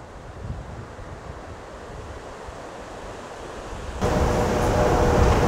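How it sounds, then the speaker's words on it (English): River rapids rushing at a New York state park near the Canadian border, a continuous broad roar of water mixed with wind noise on the microphone, growing louder toward the end. "Here's another shot of the rapids."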